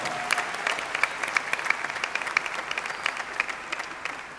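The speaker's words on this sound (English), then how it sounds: "Let's give them another well-deserved round of applause." A commencement crowd gives the Chamber Singers a sustained round of applause, many hands clapping in a steady, dense patter from across a large hall, with no one speaking over it.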